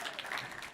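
Brief burst of audience clapping at a tech conference session on extending Copilot, dense and fairly soft, lasting under a second.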